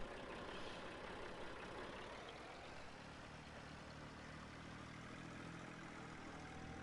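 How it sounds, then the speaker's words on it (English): A tractor engine idles in Farming Simulator 19, a steady low diesel rumble that holds evenly throughout with a slight shift in tone partway through, moderately loud and alone. "Let's move this tractor."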